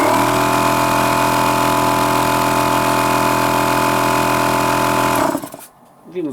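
An Einhell TC(H)-AC 190/6/8 OF oil-free air compressor runs with a loud, steady motor drone and buzzing hum, then abruptly shuts off near the end, leaving a brief near-silence before a faint sound resumes.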